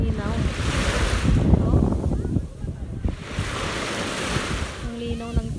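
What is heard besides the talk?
strong ocean waves at a beach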